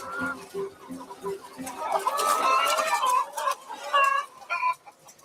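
Caged egg-laying hens clucking and squawking in a crowded French production barn, several birds calling in overlapping, rising bursts, close and clear.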